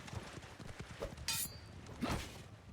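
Horse hooves clop in Mount and Blade 2 Bannerlord amid a medieval melee, a few quick soft hoofbeats mixed with clanks and sharp hits, fairly faint.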